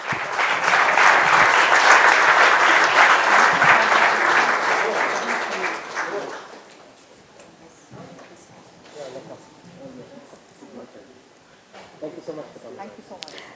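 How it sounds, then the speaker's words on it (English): Audience applause at a corporate CSR conclave, a dense, loud round of clapping for several seconds that fades out, leaving scattered claps and faint room murmur. "A huge round of applause, please."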